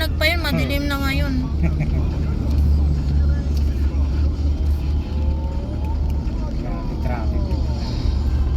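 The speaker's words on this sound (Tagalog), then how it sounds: "Traffic." Road traffic in a heavy jam on a wide road after dark, a steady low rumble of idling and crawling cars under a constant murmur of nearby voices, with a few brief horn-like tones rising above.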